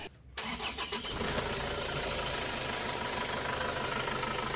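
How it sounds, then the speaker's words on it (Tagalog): An Isuzu Traviz engine cranks briefly with a short starter whir, then catches and settles into a steady, loud running rumble close by. "pwede ko na ngayon i-start itong makina"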